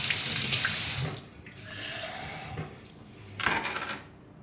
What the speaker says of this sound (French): Et je vais rajouter un petit peu d'eau chaude.